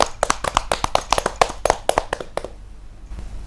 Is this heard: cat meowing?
no